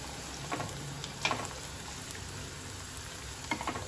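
Onion and finely chopped green chili frying in a pan, a faint steady sizzle with soft scattered crackles and light stirring clinks, no voices.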